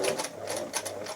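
A Singer 247 sewing machine stitches in a quick, rhythmic clatter, its needle strokes repeating at a steady pace, close and fairly quiet.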